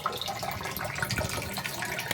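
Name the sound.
water filling a low-cost home water tank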